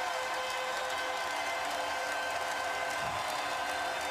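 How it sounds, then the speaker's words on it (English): Sustained standing ovation for Allen Iverson from the arena crowd at the 2001 NBA Finals Game 5: a steady, distant roar of clapping and cheering that holds evenly the whole time. "Standing ovation for Iverson."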